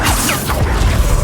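A Depulso force spell cast in the Hogwarts Legacy video game, a short magical whoosh and crashing impact burst amid busy game sound effects, loud and close.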